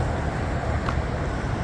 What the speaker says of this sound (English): Sorry for the background noise, there's a lot of traffic.